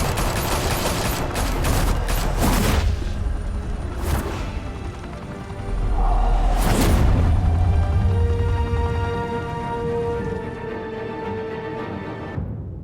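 Gunfire bursts in Batman: The Telltale Series: several loud volleys crackle in the first few seconds, a heavy blast lands near six seconds, and a low rumbling tail lingers afterward.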